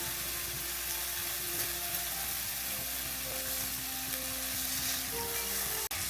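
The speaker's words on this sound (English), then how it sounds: "We should probably just stir these just to make sure nothing's getting burnt" Food frying in a pan is stirred to keep it from burning, with a loud, continuous sizzle and soft utensil scrapes throughout, ending in a sharp click.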